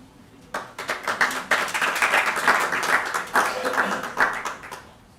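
An audience claps at a university teaching excellence awards ceremony, the sharp, irregular claps swelling after a quiet start and continuing steadily for several seconds in a large room.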